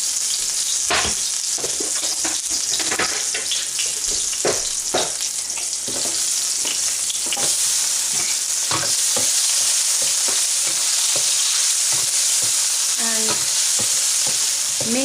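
Green chilies and ginger frying in hot oil for a dal tempering (baghar), a loud steady sizzle throughout with frequent sharp pops and spatters close by.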